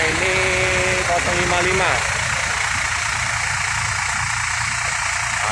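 An Adi Putro-bodied Ramayana executive bus engine idles with a steady, loud, close rumble and a brief tonal whine early on, while a person talks over it.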